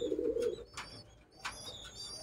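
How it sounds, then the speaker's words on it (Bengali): Racing pigeons at a breeder's home coo faintly, with a short low burst at the start followed by quieter soft calls against a hushed background. "খুব ছটপটে পায়রা।"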